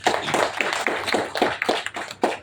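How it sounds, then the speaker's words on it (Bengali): An audience claps to welcome guests at a launch event for Citizen brand POS, barcode and label printers in Bangladesh: sharp, close claps in a quick, fairly even rhythm, with no talking. "তাদের জন্য একটা করতালি দিতে চাই"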